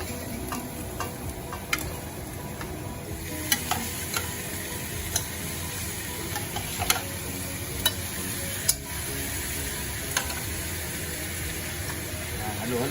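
Oxtail meat sizzles in a hot pan for Filipino kare kare, a steady frying hiss throughout with occasional sharp clicks and scrapes from stirring, heard up close.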